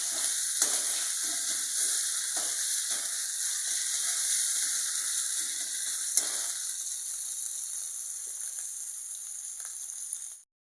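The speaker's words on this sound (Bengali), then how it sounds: "পেঁয়াজটা একটু ভালো করে কষাই হয়ে যাক" Onions sautéing in a pan with ginger and green chillies for a prawn malaicurry, giving a steady bright sizzle and hiss throughout, with a few soft stirring scrapes before it cuts off.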